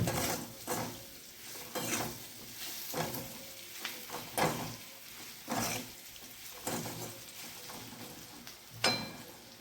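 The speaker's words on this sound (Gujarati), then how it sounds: "થોડીક વાર માટે સાતળી લઈશું।" Spices, Kashmiri chilli powder and coriander-cumin powder, sauté in a pan for a chilli sambharo, a spoon scraping through them in regular strokes about once a second over a soft sizzle.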